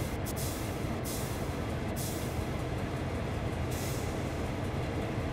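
A simulated train rumbles steadily in Train Sim World 2 on the Willard to Cumberland route, a continuous loud broadband drone with faint brief hiss bursts and no talking.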